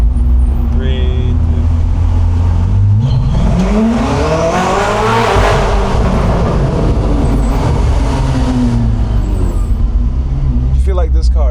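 Koenigsegg Jesko hypercar accelerating hard through a tunnel, a loud engine note climbing in pitch and surging to a roaring peak before easing off, echoing off the walls while voices talk briefly.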